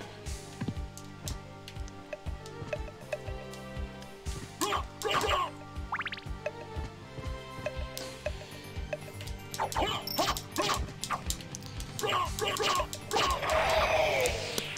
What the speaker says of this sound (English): Alucard can become a dog